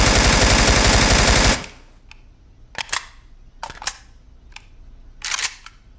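AK rifle firing a rapid automatic burst, loud and continuous for about a second and a half, then a few sharp clicks and clatters of handling afterward, close up with no voices.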